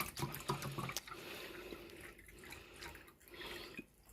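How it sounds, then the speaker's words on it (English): Bottled water is poured steadily into a small brine shrimp tank, giving a soft continuous trickle and splash at close range, quiet and without speech. "So I'm going to go ahead and fill it up with bottled water."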